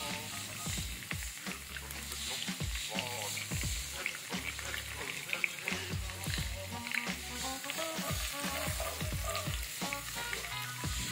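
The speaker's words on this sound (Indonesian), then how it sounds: "Tumis jahe terlebih dahulu. Setelah harum, masukkan daun jeruk." Ginger and kaffir lime leaves sizzle steadily in about 300 ml of used frying oil, with repeated scraping stirs clattering through the continuous frying close up.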